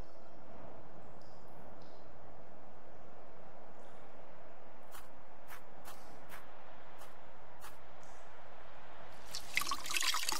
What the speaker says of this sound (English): The shirt is dripping.